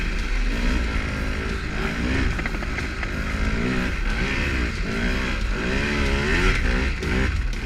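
A two-stroke engine on a snowbike drones loud and close during a ride, its pitch rising and falling with throttle changes in a continuous buzzing wail.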